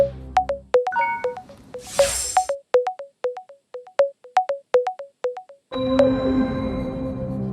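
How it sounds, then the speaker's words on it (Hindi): A repeating electronic phone ringtone melody of short chiming notes on a quiz show set, followed by a steady background hum as the ringing stops. "आरजू गुप्ता जी को फोन लगाया जाए।"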